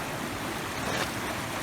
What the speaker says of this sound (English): Yeah, the waterfall's right there.